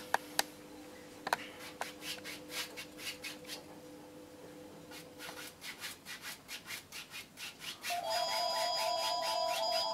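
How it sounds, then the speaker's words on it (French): A telephone starts ringing near the end with steady electronic tones, after several seconds of rhythmic brush scrubbing from oil or acrylic painting of a mountain sunset. "Ah, le téléphone qui sonne."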